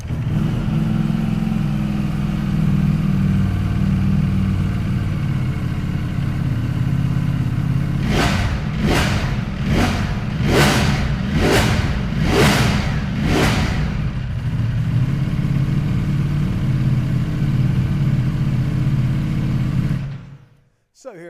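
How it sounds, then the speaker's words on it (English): A Ducati Panigale V4S Corse superbike engine idles with a deep, steady rumble close by, then gives about six sharp throttle blips in quick succession before settling back to idle. "Let's fire it up and have a listen."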